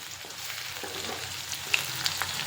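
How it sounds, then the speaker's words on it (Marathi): Crushed garlic sizzles and fries steadily in hot oil for a home-cooked methi dish, a close, continuous crackling hiss with a few sharper pops. "आता त्यामध्ये ठेचून घेतलेला लसूण घातलेला आहे. लसूण छान असा लाल करून घ्यायचा."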